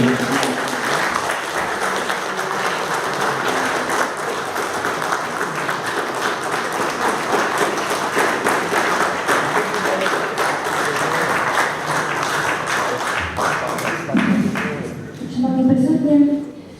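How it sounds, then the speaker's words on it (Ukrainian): Attendees at a city council session applaud in sustained, loud clapping that tapers toward the end, where a voice and some scattered sounds break through. "хочу вас привітати аплодисментами"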